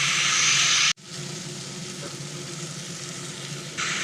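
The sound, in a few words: boiled jackfruit added to frying spices in a pan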